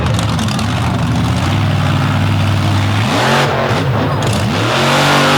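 A race truck's engine at a season-opening all-star event runs loud and steady, then revs in several quick rising and falling bursts, close by with no talk.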